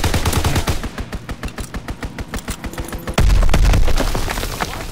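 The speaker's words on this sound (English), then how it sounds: "Call for a strafing run." An aircraft strafing run in Call of Duty WW2 fires a rapid string of evenly spaced gunshots, then a heavy low boom of impacts rolls in and fades.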